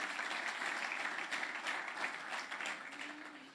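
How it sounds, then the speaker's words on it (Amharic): A church gathering breaks into sustained applause, many hands clapping together in a dense, even wash that holds steady and then eases slightly toward the end. "አጨብጭቡለት እንደገና።"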